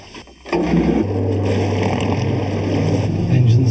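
A submarine's engines start up and run steadily underwater in the Dead Sea, giving a loud, continuous low hum and whir that holds for several seconds after a quieter opening.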